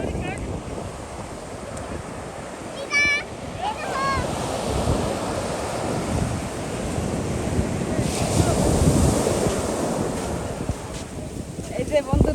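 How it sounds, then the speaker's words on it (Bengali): Big sea waves roll in at Ramnagar beach in a steady, close roar of surf, with wind buffeting the microphone throughout and a few brief voices in the background. "এ দেখো বন্ধুরা কত বড় বড় ঢেউ কত সুন্দর ঢেউ"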